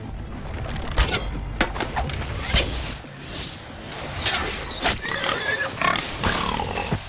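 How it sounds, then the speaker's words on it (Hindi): A large wild boar in a film scene, heard as loud, rough grunts and snorts mixed with sharp rustling, swishing movement and impacts, with no speech. "सुअर कितना बड़ा है? घोड़े जैसा है।"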